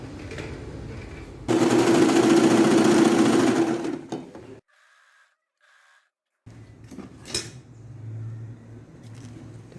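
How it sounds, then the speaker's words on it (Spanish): An overlock serger runs a seam on a denim skirt in a burst of loud, fast, even stitching lasting a couple of seconds. Quieter handling noises and light clatter come before and after the stitching, with a brief near-silent gap. "Debemos filetear esta costura y luego sí vamos a repisar"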